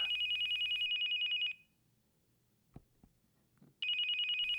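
A telephone on a nightstand rings with a steady electronic trill, then pauses through a stretch of faint room noise and small knocks before ringing again, fairly close.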